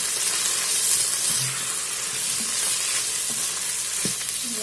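Grated carrots stir-fried in a pressure cooker pot, a steady close sizzle with scraping stir strokes and occasional clinks, no talk.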